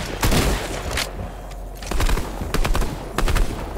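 Bursts of video-game gunfire, several loud rapid volleys with pauses between them, played in a multiplayer shooter match, alone with no talk.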